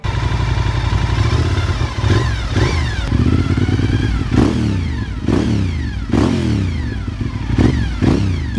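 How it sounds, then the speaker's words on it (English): A Honda RC51 V-twin superbike with fuel injection and a gear-driven cam system revs loudly and repeatedly up close, each rising sweep of engine pitch carrying a whine over a deep rumble, with clattering mechanical noise between the bursts. "The RC51 had fuel injection and its famous fully gear-driven cam system, which gives it that distinctive whine."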